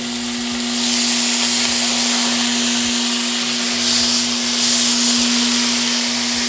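Wendy's-style fresh beef patties fry on a Temu electric griddle, a loud steady sizzle and hiss with a constant hum underneath, swelling slightly after the first second and holding throughout.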